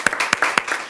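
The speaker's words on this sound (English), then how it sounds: "If we can give her a round of applause." Audience applause at a school board meeting, a short burst of distinct, fairly close individual claps in an uneven rhythm.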